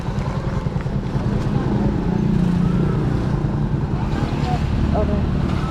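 A motorized tricycle carries riders toward a port on Samal Island, its engine a steady low drone with wind rush throughout, while people talk intermittently over the ride.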